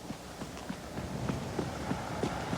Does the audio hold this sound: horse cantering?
yes